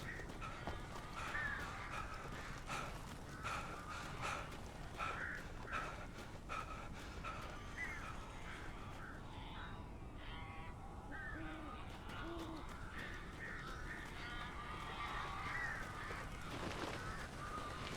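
Crows caw repeatedly in the Alan Wake game world, their harsh calls fairly faint and scattered over a low, steady ambient hum.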